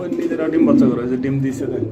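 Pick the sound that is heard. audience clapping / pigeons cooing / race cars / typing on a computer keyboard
pigeons cooing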